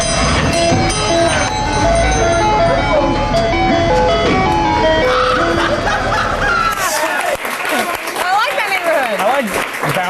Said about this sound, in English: your ice cream truck driver is bumping, does your chain hang low?